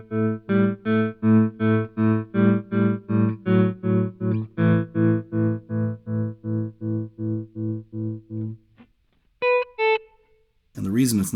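An electric guitar runs through a MayFly Terrain tremolo pedal, its volume swelling in and out in a steady pulsing rhythm on sustained notes. The pulsing stops abruptly near the end and a few short plucked notes follow.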